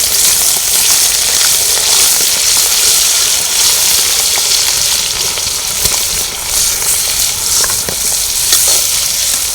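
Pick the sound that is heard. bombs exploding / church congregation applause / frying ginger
frying ginger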